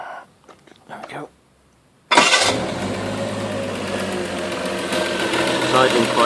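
A car engine fitted with a Stromberg carburettor fires up abruptly after a near-silent pause and settles into a loud, steady, close idle that runs on without a break.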